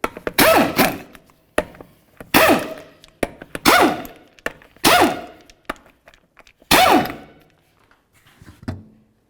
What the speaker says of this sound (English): we're going to go ahead and remove all 5 of our 19mm lug nuts and then the wheel